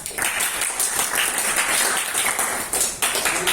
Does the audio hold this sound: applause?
yes